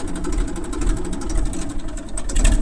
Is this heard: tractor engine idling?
yes